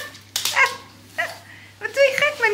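A small dog barks and yips indoors in a few short, loud bursts separated by pauses, over a faint steady hum.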